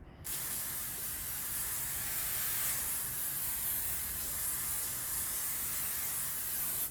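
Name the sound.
hairspray spraying onto hair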